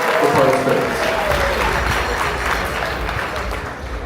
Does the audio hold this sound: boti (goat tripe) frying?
no